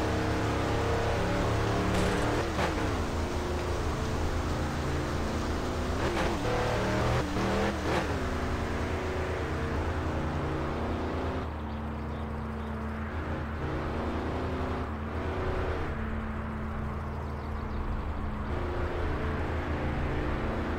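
Car engine in the video game My Summer Car, a steady rumbling drone with brief revving surges as the vehicle drives and turns through a rainy stretch, with no talk over it.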